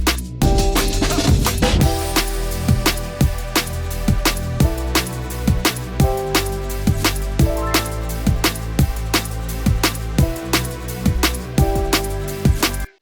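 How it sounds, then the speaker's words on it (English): A synthesizer sits dull and muffled in the background of a full electronic mix, beneath a steady, punchy drum beat that hits in regular rhythm throughout, loud and dense with no talking. "You can hear that our synthesizer is kind of muffled in the background"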